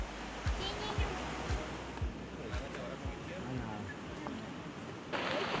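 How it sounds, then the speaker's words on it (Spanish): Heavy rain falls beside the Utana river in the Venezuelan Amazon, a steady broadband wash of downpour and rushing water with periodic low thumps, brightening near the end. "está lloviendo fortísimo"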